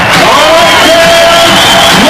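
A loud, dense roar of an arena crowd cheering and whooping at a Toronto Raptors NBA basketball game, a sustained wall of voices with no pauses.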